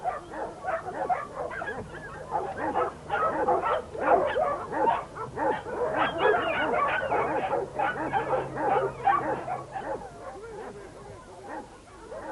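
Young working sheepdogs on a New Zealand dog farm bark and yip in rapid, overlapping bursts near the sheep yards, a busy chorus with some whimpering that fades slightly toward the end.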